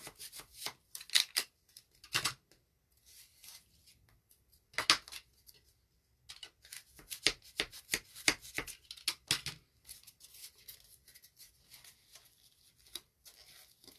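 Scissors snipping through foam clay while shaping a Mardi Gras alligator craft, a series of crisp close cuts in irregular bursts with pauses between, no talking.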